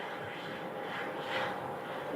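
An Airbus A320neo with large jet engines at Phoenix Sky Harbor gives a faint, distant, steady roar that swells gently toward the middle and holds without talk.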